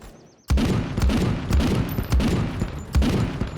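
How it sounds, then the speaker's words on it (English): A lone shooter fires in the game Zero Sievert, a string of sharp booming gunshots spaced roughly half a second apart, loud and punchy with short echoing tails, no voices present. "It's a single person firing, so it's most likely a hunter"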